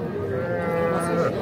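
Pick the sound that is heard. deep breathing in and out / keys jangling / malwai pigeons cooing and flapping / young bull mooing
young bull mooing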